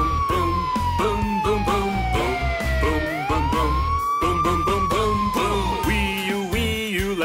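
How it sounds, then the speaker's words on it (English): A loud, wailing fire truck siren sweeping up and down in pitch in a children's song, continuous and close, with a rhythmic toy-like tone pattern near the end. "Vroom, vroom, a red fire truck!"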